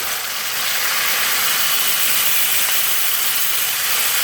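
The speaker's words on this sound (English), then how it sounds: "We've got quite a lot of sizzling there because we've got some lemon juice and the tamarinds" Garlic and curry paste with lemon juice and tamarind sizzle hard in a hot pan, a loud, steady, bright hiss that barely changes over the few seconds and has no talk over it.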